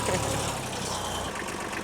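A tractor engine idles close by with a steady, low, rhythmic throb and a faint rougher undertone of noise.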